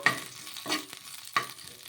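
A spoon stirs chillies and tamarind in a pan, with three close scraping strokes over a faint sizzle and no talking.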